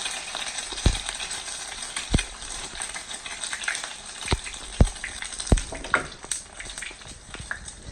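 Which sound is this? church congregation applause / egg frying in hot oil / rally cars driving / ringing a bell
egg frying in hot oil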